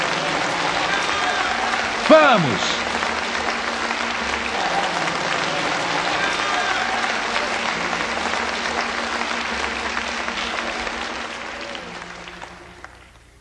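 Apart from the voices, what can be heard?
congregation applauding God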